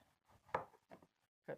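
A knife cuts food on a board in three soft, separate strokes, quiet and close, with short pauses between them.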